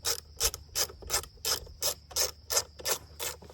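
An 8mm wrench ratchets on the battery bolt of a Honda CRF250F dirt bike, giving about ten evenly spaced, crisp clicking strokes up close with a steady rhythm and no talking.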